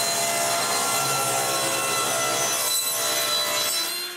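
Power saw ripping the ends of wooden boards being made into tripod leg dowels, a steady whining cut with a slight pitch dip near the end before the sound trails off.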